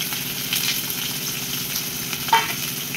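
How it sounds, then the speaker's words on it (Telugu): Onions and green chillies fry in hot oil in a kadai with a constant close, bright sizzle and a faint stir or clink partway through, no voices. "ఆయిల్ వేడెక్కిందండి. ఇప్పుడు ఆనియన్ పచ్చిమిర్చి కూడా వేసేసుకుంటున్నాను."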